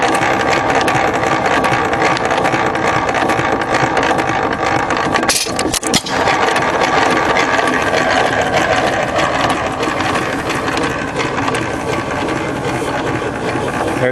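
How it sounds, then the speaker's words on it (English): A 3 HP Hercules-built stationary engine runs loud and close, a steady mechanical clatter with a ratcheting rhythm and one brief dip midway, no voices. "The engine's actually a Hercules built engine."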